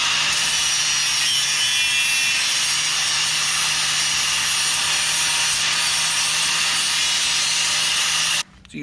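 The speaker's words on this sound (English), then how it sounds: "I'm planning on using a Sawzall for this one" A Sawzall reciprocating saw cutting off a control arm mount on a Jeep JL, a loud continuous rasping buzz that runs steadily for several seconds before abruptly stopping near the end.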